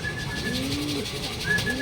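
Racing pigeons at a club training loft coo in soft, low, rolling calls that repeat close by, with a faint higher chirp cutting through now and then.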